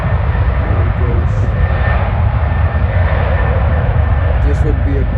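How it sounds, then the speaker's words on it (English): Airbus A330 taking off at Schiphol airport: a continuous, loud jet engine roar with strong low-end rumble, steady and close, while a person talks quietly underneath. "Airplane taking off in front of the Schiphol Tower. Yeah, it's an A330."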